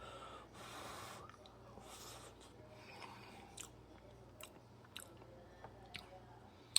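Someone chews boiled boniato, a Caribbean sweet potato, close to the mic, with soft wet mouth sounds and breathy snorts, plus a few sharp clicks toward the end; quiet overall.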